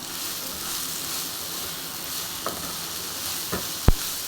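Country-style cluster beans (gavar) being stirred and mixed in a frying pan, a steady close sizzle with a few sharp spatula knocks near the end and no talking.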